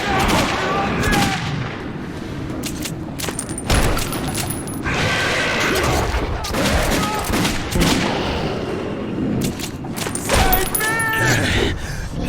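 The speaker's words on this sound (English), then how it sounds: "Shoot them! You shoot!" Gunshots crack and boom in the Metro 2033 Redux game, sharp irregular reports in a loud, chaotic fight, with shouting voices and other game noise mixed in.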